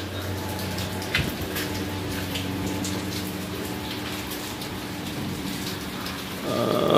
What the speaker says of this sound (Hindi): आज भी हल्की हल्की अभी हो रही है बारिश।